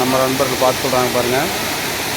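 Steady rushing roar of a waterfall at a rocky bathing spot, a continuous broadband wash of falling water heard close by beneath someone speaking.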